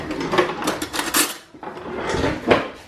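Cutlery and dishes clink and clatter as a spoon is fetched from a kitchen drawer, several sharp metallic knocks in two bursts with a brief pause between, close and fairly loud with no talking.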